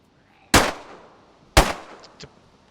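Two sharp, loud gunshots about a second apart in the survival game DayZ, each ringing out and decaying, followed by a couple of fainter, shorter shots.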